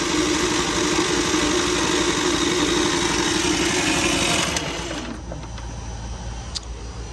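A Westinghouse iGEN4000DFc generator cranks with a steady, buzzing mechanical whir, loud and close, for several seconds before the cranking drops off to a quieter hum without the engine catching.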